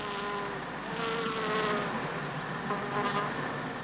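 Honeybees buzz in a dense, continuous drone that swells and fades slightly, close and steady, with no voices.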